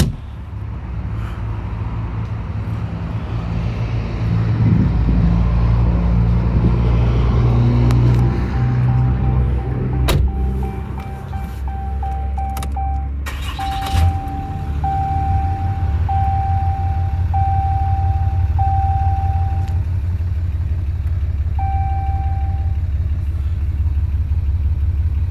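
A 2015 Ram 2500 crew cab with a 6.7L Cummins diesel, 4x4 with 148k miles, starts and runs close by, moving from a rough, loud rumble into a steady low idle while reversing beeps chirp repeatedly over it.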